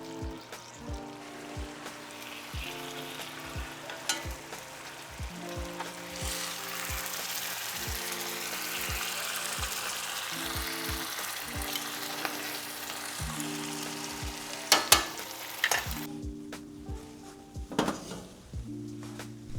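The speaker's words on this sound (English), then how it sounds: "Having the pork chops finish cooking inside the sauce is going to add a lot of flavor to it." Pork chops simmer and sizzle in sauce in a pan, with a steady frying hiss and a rhythmic pattern of clinks and pan knocks from stirring. Brief louder clatters come near the end.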